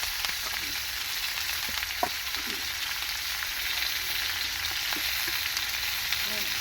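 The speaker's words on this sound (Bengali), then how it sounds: "টমেটোটা দিয়ে দিল, দিয়ে কষছে" Whole tomatoes frying and being stirred in a pan of hot oil for a Bengali home dish, a steady close sizzle with occasional clicks and scrapes of the spoon, no voices.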